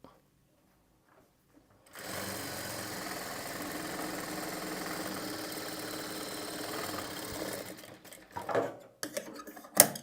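A sewing machine runs continuously while stitching piping on tightly held cloth, starting after a short silence and humming steadily for several seconds before stopping into scattered handling knocks.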